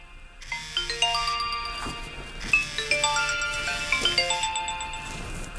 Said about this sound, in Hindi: तुम्हारी कॉल आ रही है।